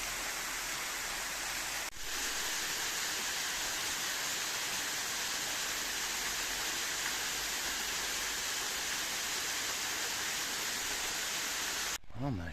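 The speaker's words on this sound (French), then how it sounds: "Et voilà, la grande cascade de Lafond." A loud, constant rushing roar of the Lafon waterfall in Cantal, steady and close, with a brief break near the start and a short interruption at the end.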